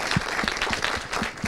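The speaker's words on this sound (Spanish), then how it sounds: "El aplauso para Diana." A television studio audience applauds a guest on a talk show, with dense, steady clapping at close range for the whole moment and no voices over it.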